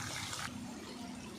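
Water pours into a pot of browning chicken for pulao, a brief hissing splash at first that settles into a softer, steady sizzle, fairly faint.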